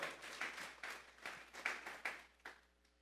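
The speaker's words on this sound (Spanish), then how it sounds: "Vamos a regalarle ofrenda de palmas al Dios de la gloria." A church congregation claps together in a faint, uneven run of applause bursts that swell and fall several times before tapering off.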